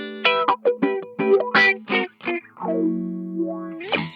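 An electric guitar runs through a Zvex Super Seek Wah pedal set to two steps, so short picked notes are filtered in alternating stepped sweeps before a held note swells and glides, loud and alone with no talking.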